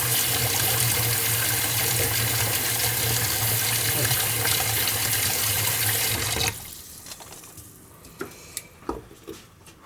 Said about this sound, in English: We'll get some more water in there.